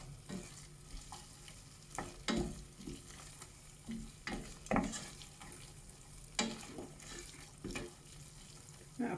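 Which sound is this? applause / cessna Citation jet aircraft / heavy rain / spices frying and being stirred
spices frying and being stirred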